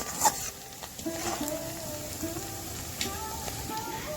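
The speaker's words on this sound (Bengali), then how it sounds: "পেঁয়াজ কুচি দিয়ে ভালো করে নেড়ে নেব। মশলাটা ভেজে আমরা কিছুটা মশলা তুলে নেব।" Chopped onion and spices fry and get stirred in a pan for banana-flower dalna, a light sizzle with occasional scraping taps, partly under a voice speaking.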